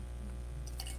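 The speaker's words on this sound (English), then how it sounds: "Pour the last remnants" Leftover cocktail is poured into a glass, giving a brief, soft liquid dribble and splash up close, with the drips brightest near the end.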